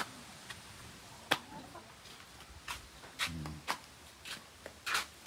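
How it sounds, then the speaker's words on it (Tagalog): Chickens cluck softly at a farmyard, with scattered short calls and sharp clicks spread over a few seconds against a quiet background. "Mga manok."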